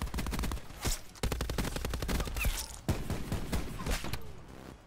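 Rapid automatic gunfire from a Black Ops 4 multiplayer match crackles in dense, repeated bursts, loud and close throughout, with a few sharper single shots standing out among the volleys.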